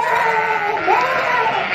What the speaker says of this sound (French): Les moutons se mettent à bêler en chœur, à bêler de plus en plus fort.